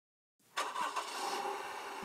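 A truck engine cranks and catches after a moment of silence, then runs steadily at a loud, close idle with a slight rev, without any talk over it.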